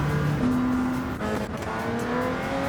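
Porsche 908 race car engine in Gran Turismo 7, a loud close revving wail that steps through gear shifts with rising and falling pitch, heard alone.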